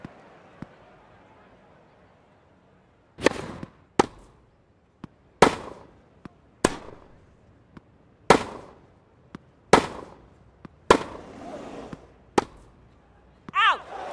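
Sharp racket strikes on a tennis ball trade back and forth in a rally in Tennis World Tour, crisp evenly spaced hits about a second apart over quiet court ambience.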